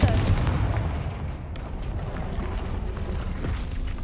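A Confringo fire spell from Hogwarts Legacy bursts into loud, continuous blasting roar and rumble, with dense booming, sustained for the full few seconds.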